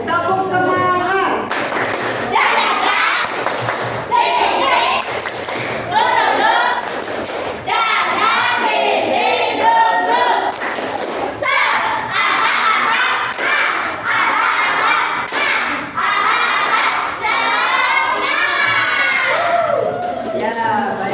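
A classroom of children performs a rhythmic clapping chant, loud group claps and thumps in patterned bursts mixed with shouted chanting voices, close and lively throughout.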